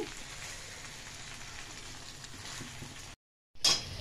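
Dried red chillies and cumin seeds tempering in hot oil give a steady, dense sizzle, like close rain on a surface, for about three seconds; a brief silence follows, then the crackle returns louder.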